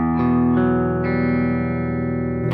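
Electric guitar through a Synergy SYN30 amp set clean, a few strummed chords left ringing with bright, sustained, undistorted tone, loud and close, with a fresh strum at the very end and no talking.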